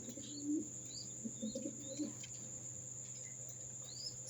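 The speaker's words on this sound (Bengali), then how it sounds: "এগুলো মূলত আমার বাসার হাই ফ্লায়ার কবুতর" High flyer pigeons in a home loft coo softly in low, burbling bursts during the first two seconds, over a constant thin insect-like whine and faint chirps, with no talking.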